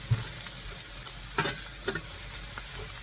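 Ham fries in its own rendered fat in a pan for macaroni ham and cheese, a constant close sizzle broken by a few scraping stirs of a utensil, with no voices.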